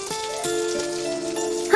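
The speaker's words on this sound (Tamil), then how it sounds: "என்ன மழை பெய்யுது?" Steady rain pours in a Naruto cartoon scene, a dense hiss broken by a few soft knocks and patters.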